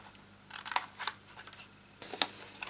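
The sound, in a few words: scissors cutting card at an angle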